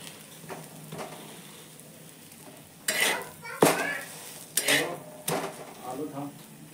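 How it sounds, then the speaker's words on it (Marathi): Bitter gourd cooks in a pan on a home stove as a spoon stirs it. Several sharp metal clinks and scrapes sound against a faint background sizzle, close and uneven. "आणि हे कारलं आता मी शिजवून घेतलं, तर त्याला मी फ्राय करणार."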